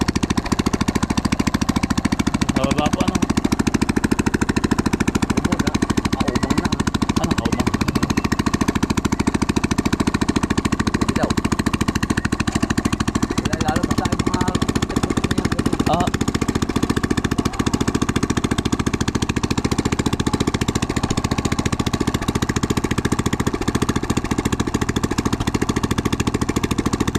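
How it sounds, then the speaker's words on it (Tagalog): A motorcycle engine warming up idles steadily for a long stretch, a continuous low rumble with faint clatter and background noise, no voices. "pinapainit lang po yung motor para hindi agad na masira"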